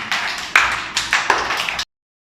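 Children in a playgroup classroom clap for a classmate, a short burst of brisk hand claps with a few louder accents, close and filling the room, ending abruptly.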